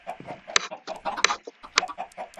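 Blocky Minecraft chickens cluck in a quick run of short, sharp bursts, several in succession over about two seconds, fairly close and clear with no talk over them.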